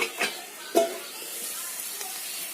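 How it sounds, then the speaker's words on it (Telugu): A cluster bean and chickpea curry frying in a pan, a steady soft sizzle with a couple of clear spoon scrapes and knocks near the start, then fading to a quieter hiss. "ఇవి బాగా వేగనిచ్చేయండి. మెయిన్ సెంటర్లో శుభ్రంగా కలిపేయండి."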